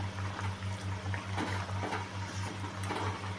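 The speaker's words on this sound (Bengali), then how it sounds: "মাছগুলো ভালো করে ফুটবে।" Bhola fish pieces boil in a mustard and poppy seed gravy, making a steady close bubbling simmer over a rhythmic low pulsing hum, with no talking.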